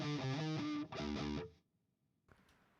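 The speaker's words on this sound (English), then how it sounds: "distortion tone right out of a tube amp" Electric guitar played through an Ampire MCM-800 tube amp simulation with a traditional rock distortion tone: two loud, thick chords ring out in turn, then cut off into near silence with a faint pick noise.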